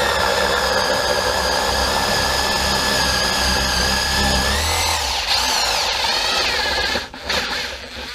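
A Makita DTP141Z cordless 4-mode impact driver runs continuously at close range, a steady high motor whine with dense hammering chatter, easing into a slowing, wavering pitch near the end before cutting off.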